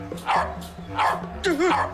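A cartoon dog barks in a few bursts with yelping, whining tones, heard over a steady background hum and music.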